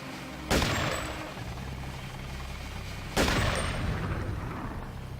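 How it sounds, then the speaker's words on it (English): Two booming blasts from exploding barrels shot in the game Deus Ex, each a sharp loud crack followed by a long rumbling decay, spaced about two and a half seconds apart. "It's exploding barrels, and the people who get hurt a lot when you shoot exploding barrels."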